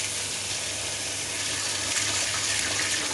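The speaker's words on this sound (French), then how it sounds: "c'est reparti pour le troisième rinçage" Raw sauerkraut rinsed under a running kitchen tap, a steady close hiss of flowing water splashing continuously with no talk.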